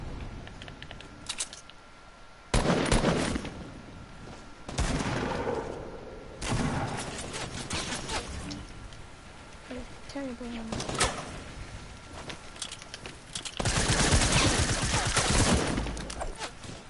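Infantry rifle firing in a Fortnite solo match: repeated loud bursts of gunfire in several clusters over the span, mixed with other game effects and a voice talking at times.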